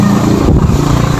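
Honda Beat 110 scooter engine running right after an electric-starter start, a loud, close, steady putter with a dense low rumble and no talk over it.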